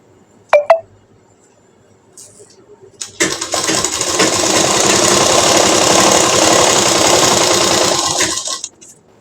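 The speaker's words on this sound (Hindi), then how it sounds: "देखिए इस तरीके से यहाँ सिलाई हो रही है हमारी।" A sewing machine stitching a kurti runs in one steady, loud, continuous burst of about five seconds after a few brief clicks and handling knocks, with no talk over it.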